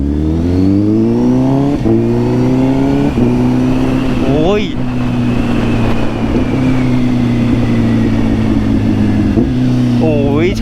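A motorcycle engine revs and accelerates up close, pitch climbing then dropping with each gear change, several shifts in a row, loud and continuous.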